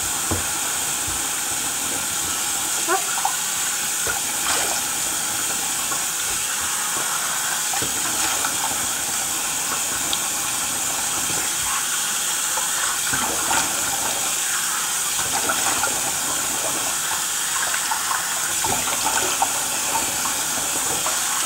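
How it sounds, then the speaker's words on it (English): Tap water runs steadily to rinse soap off during a night routine, a continuous close splashing rush that never pauses for over twenty seconds. "I'm not trying to get water on the camera if I am. I'm just trying to wash this soap off."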